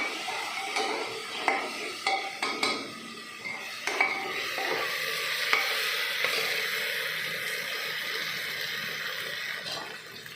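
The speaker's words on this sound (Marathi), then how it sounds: "याच्यामध्ये आपण आलं लसूण पेस्ट घालायचे दोन तीन मिनटं भाजून द्यायचे" Ginger garlic paste fries in a pan, a close, steady sizzle with several early clinks and scrapes of a spoon stirring, then settling into continuous crackling.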